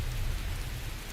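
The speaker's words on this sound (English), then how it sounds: "Not with that rain pounding against our skin." Heavy rain pounds down in a continuous, even hiss with a deep low rumble underneath, steady and loud with no voices.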